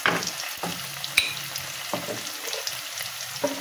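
Potatoes frying in oil with chili powder and turmeric, a soft steady sizzle broken by several distinct scrapes and clinks of a spoon stirring against the pan.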